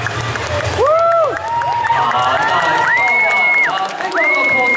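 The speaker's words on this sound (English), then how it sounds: "Big round of applause to everyone that came past the cosplay competition" Crowd at the SunnyCon convention cosplay competition cheering and whooping loudly, with high excited shouts and clapping mixed in. Voices call out throughout, steady and close.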